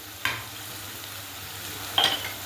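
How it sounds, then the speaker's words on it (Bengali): Ginger paste dropped into onion and garlic frying in a pan for village-style chicken curry, giving two short bursts of sizzling and stirring against a steady low hiss, with no talk. "পেঁয়াজ আর রসুন ভাজা হয়ে গেছে, এবার আদা বাটাটা দিয়ে দিচ্ছি।"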